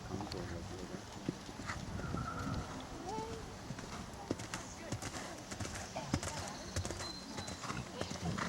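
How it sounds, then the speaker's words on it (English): A young horse's hooves clip-clop on hard ground in uneven, scattered steps, moderately close, with people talking quietly in the background and a brief whinny-like sound mixed in. "Is this the young horse?"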